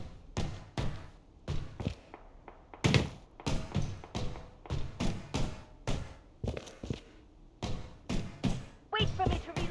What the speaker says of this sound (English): Wait for me to reload.